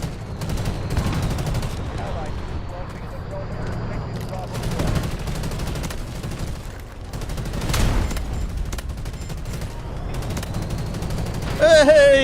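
Tank machine gun fire in the shooter video game Delta Force, sustained loud rapid bursts with booming impacts throughout, under game noise and a voice near the end.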